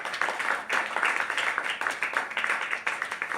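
Church congregation applauding together during a sermon, steady clapping filling the room with a rhythmic, moderately loud texture, no voices rising above it.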